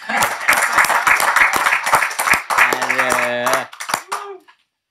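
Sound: audience applause

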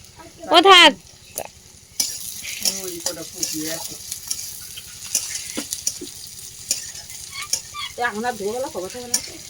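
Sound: panch phoron spices frying in oil with onion and garlic

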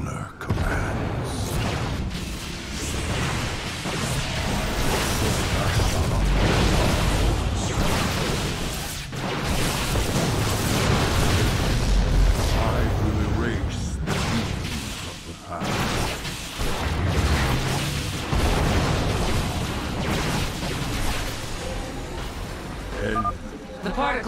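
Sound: cannons exploding as they are destroyed in StarCraft 2 video game

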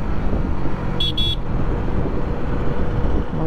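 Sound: car horn honking in road traffic

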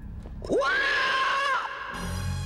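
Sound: ghostly shriek recorded at Berry Pomeroy Castle

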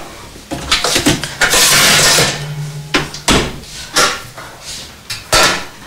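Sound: oven tray being taken out

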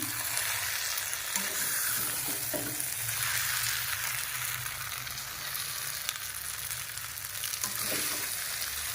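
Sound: mixing chowmein in a frying pan

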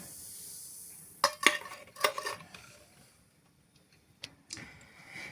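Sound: stirring apple fritter batter with soda

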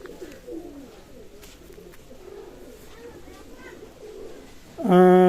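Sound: Pakistani teddy pigeons cooing

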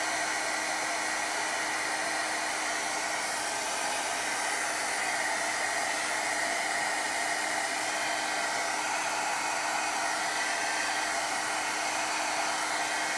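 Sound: hair dryer drying watercolor paint

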